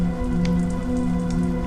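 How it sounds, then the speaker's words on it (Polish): Steady rain patters and drips, with water leaking through a roof and trickling down close by; a constant wet spatter runs throughout with no voices. "zaczyna z dachu coraz bardziej przeciekać"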